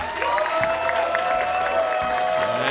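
Audience at an interactive Dungeons & Dragons musical performance cheers and applauds steadily throughout, a dense wash of clapping over sustained music.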